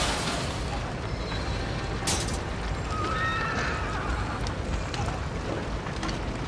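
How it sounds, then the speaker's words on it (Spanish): Horses whinny and neigh amid a burning scene in the video game Trine 5, several calls rising over a constant windy, rushing background bed. "No, los caballos."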